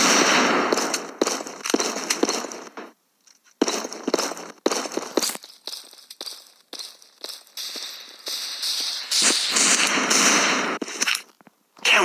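A grenade detonates during a round of Counter-Strike: Global Offensive mobile, amid a loud, choppy string of sharp bangs and gunfire bursts broken by brief silent gaps.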